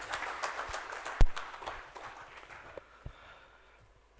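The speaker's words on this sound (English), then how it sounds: "A huge round of applause for Shri H.K." Applause from an audience at a corporate conclave, a short scattering of claps with one sharp clap standing out, fading quickly to sparse taps.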